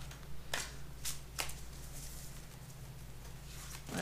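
Prisma Visions tarot deck being shuffled by hand, a few soft riffling bursts of cards spaced across a quiet stretch over a steady low hum.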